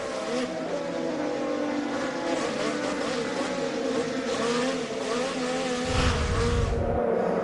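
Onboard view of an IndyCar race car during the 2015 IndyCar Series race in Louisiana on a wet track, its engine a loud, continuous high-pitched whine that rises and falls through gear changes, with a brief low rumble near the end.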